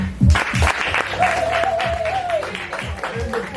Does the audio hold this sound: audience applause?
yes